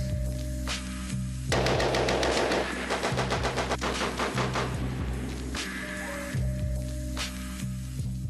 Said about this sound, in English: one of the most revolutionary and important weapons of World War I, the machine gun.